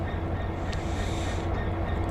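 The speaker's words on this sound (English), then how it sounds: "And that's our train there, or rather our carriages" Railway carriages roll steadily along the track in the Train Sim World video game, a continuous rumbling wheel-on-rail drone with a faint high squeal near the start, loud and even throughout.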